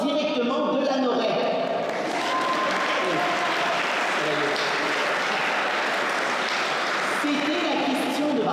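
Audience applause at a recognition gala in Lanoraie, a steady wash of clapping from a crowd that continues throughout, with voices mixed in.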